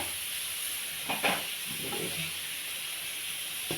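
Cumin and mustard seeds dry-roast in a pan over a low flame, giving a faint continuous hiss with a couple of brief scraping stirs and soft crackles near the start.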